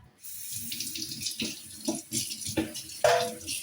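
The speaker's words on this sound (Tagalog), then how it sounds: "natalsikan ako ng tubig" Water runs from a tap and splashes in a sink, with sharper splatters and a louder burst toward the end.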